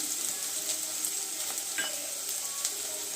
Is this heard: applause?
no